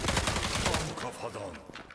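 Rapid bursts of video game gunfire in Zula crackle close and loud, with dense repeated shots running throughout. The shooting tapers off slightly toward the end.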